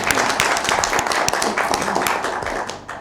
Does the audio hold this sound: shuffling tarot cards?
no